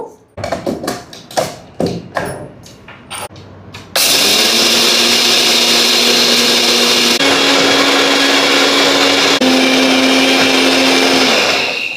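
A NutriPro juicer mixer grinder grinds dry coriander seeds into powder: a few sharp taps and pulses come first, then the motor runs flat out with a loud, steady, high whirring roar.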